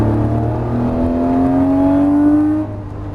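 A Lamborghini Murciélago accelerating out of a turn on the Las Vegas Motor Speedway track, heard from inside as a loud, rising engine whine that climbs steadily in pitch, then drops off abruptly near the end.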